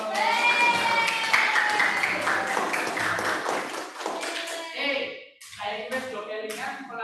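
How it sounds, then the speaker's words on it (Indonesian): Classroom hands clapping together during an art lesson, a brisk rhythmic burst followed by separate claps, mixed with children's voices. "Tepuk tangan dan bersenang yo."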